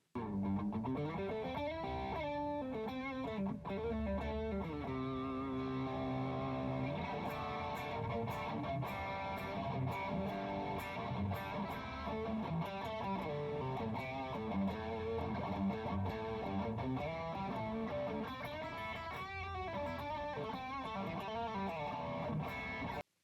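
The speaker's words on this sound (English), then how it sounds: "Here's a clip of me playing one of these amazing guitars." An electric guitar plays distorted, effects-laden notes and chords, sustained and ringing, loud and continuous throughout.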